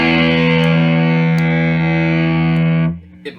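A distorted electric guitar chord through an op-amp distortion pedal, without clipping, rings out loud and sustained, thick with harmonics, then cuts off abruptly near the end, followed by a couple of faint clicks.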